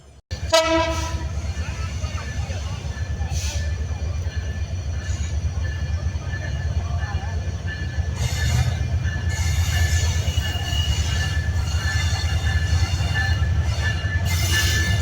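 The Madhumati Express rumbles steadily close by with rail clatter, horn blasts at the start and brief squeals of wheels as it rolls into Pachuria Junction station.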